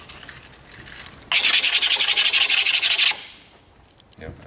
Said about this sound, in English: It didn't take much effort at all to really scratch the daylights out of the hardwood product